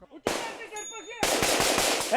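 Sharp bursts of automatic gunfire crack out in rapid succession on a training range, loud and outdoors, after a brief shout.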